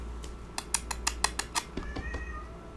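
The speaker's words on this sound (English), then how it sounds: "One of my cats had the other one just pinned to a wall in there." Two house cats fight indoors, one pinning the other against a wall. A close run of rapid, sharp scuffling bursts gives way to drawn-out, wavering meows and yowls, with no talking.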